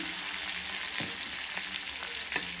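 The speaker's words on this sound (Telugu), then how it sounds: "ముందు తాలింపు గింజలు వేసాను, తర్వాత దీంట్లో కరివేపాకు వేస్తున్నాను." Curry leaves and asafoetida go into hot tempering oil already holding seasoning seeds, and they sizzle and fry in a constant crackle with occasional stirring taps, close up and with no voices.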